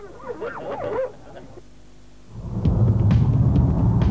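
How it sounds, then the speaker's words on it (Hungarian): Rescue dogs at an air show and military technology display bark and whimper in greeting on command, a few yips and barks close by, followed by loud rumbling outdoor crowd or engine noise. "a miskolci speciális mentő kutyáival is, akik vezényszóra köszöntek a látogatóknak."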